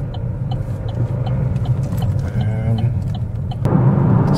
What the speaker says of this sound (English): So driving through London